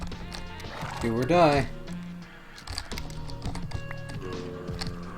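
A horse in the video game Minecraft neighs in a loud, wavering whinny alongside soft clip-clopping steps, with a person talking over the game sounds.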